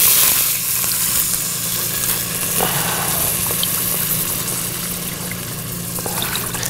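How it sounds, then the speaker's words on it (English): Water poured into a hot pan of vegetables for boxed stuffing, hissing into a loud, continuous sizzle and bubbling that holds steady and close throughout. "We're gonna add the water for the box of the stuffing."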